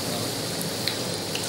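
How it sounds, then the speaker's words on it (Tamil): Chilli bhajji deep frying in hot cooking oil, a steady, even sizzle and crackle with a few brighter pops, heard alone and close. "பஜ்ஜி நல்லா டீப் ஃப்ரை ஆகிட்டுருக்கு"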